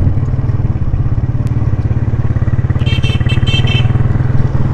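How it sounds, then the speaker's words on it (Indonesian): A motorcycle engine idles roughly and loudly up close, sputtering as if about to stall, with a steady low throb and some clattering over about five seconds; no one speaks. "Sebelum tu motor saya macam nak mati-mati."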